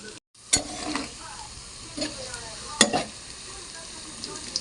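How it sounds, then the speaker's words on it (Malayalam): Homemade snacks frying in hot oil over a low flame, a steady close sizzle with several sharp stirring clatters of a utensil against the pan. "നമ്മൾ ആക്കി വെച്ചിരിക്കുന്നതെല്ലാം ഫ്രൈ ചെയ്തെടുക്കാം"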